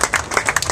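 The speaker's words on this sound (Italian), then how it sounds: "Applauso. Bravo." Short burst of applause at a cycling race award ceremony in Rieti, a few hands clapping in an uneven patter close by, with no talking over it.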